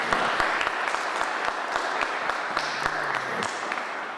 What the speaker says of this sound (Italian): a cui tributerei subito un applauso di benvenuto